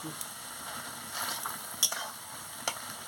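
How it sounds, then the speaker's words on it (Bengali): Stalks simmering with pumpkin, potato and eggplant in a pan are stirred, giving a soft sizzle with a few sharp scrapes and clinks of the utensil against the pan, quiet and close. "দিয়ে ভালো করে নাড়িয়ে নিচ্ছি"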